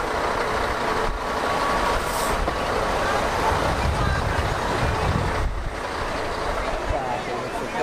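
Buses rumbling past on a road near Dubrovnik's Old Town in Croatia, a loud, steady engine drone and road roar that swells and fades, with people talking over it.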